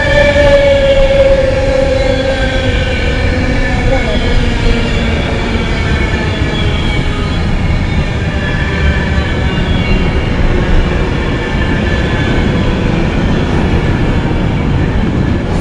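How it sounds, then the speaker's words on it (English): A Virgin Birmingham-to-London Euston service, unit 390021, rolls through Birmingham International station, a loud, sustained rumble of wheels and motors with a slowly falling whine as it passes close by. "Virgin train service from Birmingham to from Wolverhampton, sorry, to London Euston"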